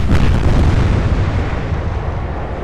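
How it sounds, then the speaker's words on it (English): A very large explosion as a battleship's rear magazine is struck by a German salvo, a loud, dense roaring blast that fills the entire stretch and slowly fades. "setting off a very large explosion"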